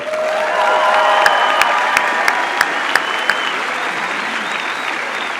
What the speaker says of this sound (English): Everyone, a big round of applause for Stephanie Lee.